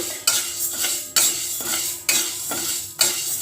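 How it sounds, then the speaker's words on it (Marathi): Whole mung beans dry-roast in a pan on low heat while a utensil stirs them, giving close, rhythmic scraping strokes with a rattle of beans roughly every second. "हे पण कमी गॅसवर अगदी छान ब्राऊन होईपर्यंत चांगले भाजून घ्यायचे"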